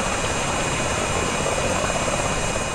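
Engine 2 of an MV-22 Osprey tiltrotor spools up in Microsoft Flight Simulator, giving a steady broadband turbine roar with a thin high whine, moderately loud and continuous, with no voices.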